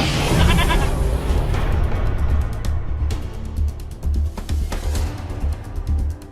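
Goat bleating, a busy bleat-like animal cry with repeated calls over steady background noise, fairly loud and close throughout.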